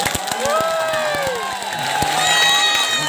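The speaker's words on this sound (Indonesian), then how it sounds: "Tepuk tangan samburnya." An audience at a Balinese bondres comedy performance claps and cheers, with crowd shouts and whoops and some overlapping voices and tonal sounds running under the noise.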